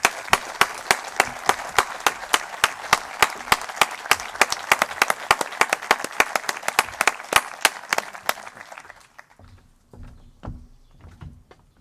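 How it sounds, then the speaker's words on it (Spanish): Applause at the Teruel 2021 business awards gala for Sergio and José Antonio; loud, steady rhythmic clapping in unison, close and crisp, stopping abruptly after about eight seconds, followed by a few scattered faint sounds. "le hagamos un aplauso tanto a Sergio como a José Antonio"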